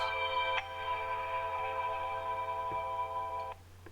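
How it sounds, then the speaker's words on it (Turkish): Phone ringing indoors, a steady electronic tone sounding for about three seconds with a break in between, moderately faint and with no voices. "Kusura bakmayın arkadaşlar telefon çaldı."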